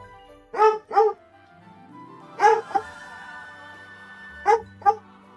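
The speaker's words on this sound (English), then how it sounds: "Please not bark directly to the mic, Holmes." A dog barks close to the microphone in three pairs of sharp, loud barks spaced a couple of seconds apart, over quiet game music during a Pokémon game session.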